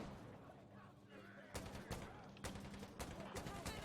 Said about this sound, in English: Yeah, mortars are coming in.